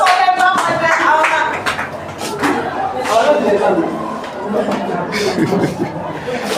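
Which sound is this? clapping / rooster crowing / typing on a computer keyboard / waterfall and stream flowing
clapping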